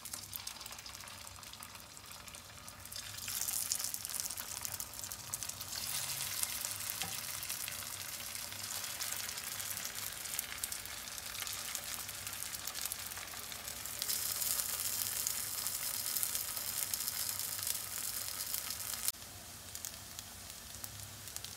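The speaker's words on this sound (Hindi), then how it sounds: "तेल गरम हो गया है। अब हम इसमें आहिस्ता से अपने कटलेट्स रखते जाएंगे।" Sabudana cutlets fry in hot oil, a sustained close crackling sizzle that swells louder after the first few seconds and stays steady for a long stretch, with no talking.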